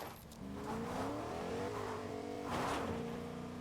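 Car engine in Fortnite revving and accelerating steadily, its pitch climbing and shifting over a few seconds, fairly close and without talk.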